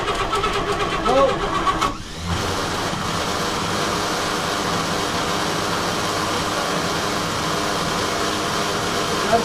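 A 1952 Chevy Bel Air engine cranks over, the starter grinding steadily for several seconds without catching, with a short exclamation from a person and some talk around it.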